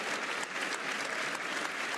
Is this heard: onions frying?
no